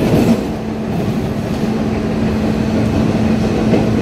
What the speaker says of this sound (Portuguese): esse barulho é da fricção da roda com o trilho, tá?